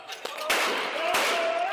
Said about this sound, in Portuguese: Estão soltando tiro.